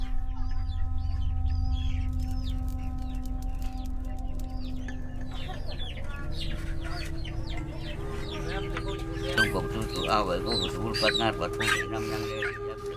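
Chickens cluck and squawk repeatedly at a traditional Pasola ritual in West Sumba, Indonesia, over a steady droning background with music-like tones, continuous and moderately loud throughout.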